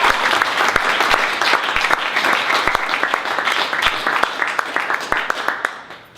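Crowd applauding at an event closing, loud close clapping with many sharp individual claps over a dense wash, gradually fading out at the end.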